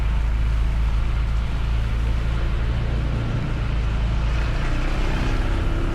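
Motorcycle with high ground clearance riding through flooded street water on a ride near Renon, a loud continuous rumble of engine and rushing water spray filling the whole stretch, with no talking.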